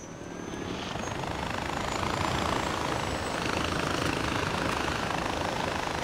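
Helicopter in the video game Far Cry 4: a steady rotor and engine drone builds over the first second and then holds loud and continuous, with no speech.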